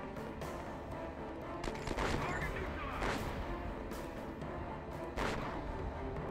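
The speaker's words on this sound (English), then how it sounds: "I didn't realize I was being shot at." Bursts of gunfire from a Desert Storm 2 combat video game, repeated sharp shots and heavier booms in a dense, continuous battle mix with no quiet gaps.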